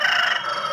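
A rooster crows at the Pileru chicken market, a short, loud, close call that holds steady briefly, with no voices over it.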